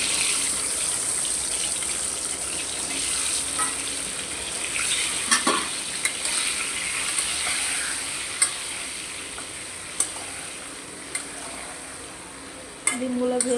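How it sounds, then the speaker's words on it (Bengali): Eggs frying in a pan for an egg scramble, with salt and turmeric added, give a steady broadband sizzle with a few sharp utensil clicks and a louder knock near the end, no talking over it. "ডিমগুলো ভেজে উঠে তারপরে ভাজিটা করে ফেলবো"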